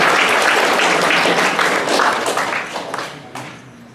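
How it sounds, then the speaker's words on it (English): An audience at an entrepreneurial panel event applauds a panelist, a dense burst of clapping that starts full and close, then thins and fades out over a few seconds. "So please, round of applause for CEO of Instapio, Senna Zorlu."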